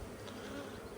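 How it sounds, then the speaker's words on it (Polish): Honeybees buzz in a dense, continuous drone around a hive as they are driven off, steady and close with no voices. "Czyli po prostu rozgonię pszczoły"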